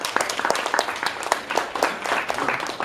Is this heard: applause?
yes